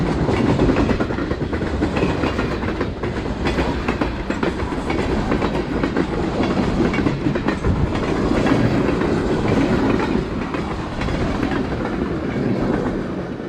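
A Reading & Northern freight train carrying building materials and plastics hoppers passes close by, its loud, steady rumble of wheels and rail clatter filling the scene without a break.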